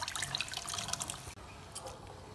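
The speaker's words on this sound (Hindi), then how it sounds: "ऐड करते हैं इसके अंदर अब बॉयल किए हुए चने और साथ ही इसका पानी भी" Boiled chickpeas and their cooking water poured into a pan of fried spices, a soft continuous splashing and trickling that briefly cuts off partway through, then resumes more quietly.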